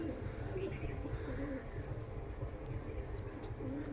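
Pigeons coo in a loft of fancy teddy birds, low repeated murmuring calls layered over one another at close range, steady and continuous with no voices.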